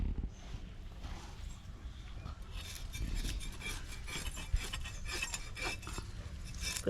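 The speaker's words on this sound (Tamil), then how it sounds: "மீனை ஆஞ்சி சுத்தம் பண்ணிக்கலாம்." Steady rasping scrapes of fish scales being scraped off a whole fish while it is cleaned for fish fry and fish curry, a continuous gritty rubbing close by with a few sharper scratches.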